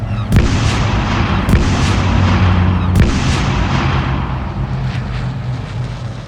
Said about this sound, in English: just dropped a few hydrogen bombs here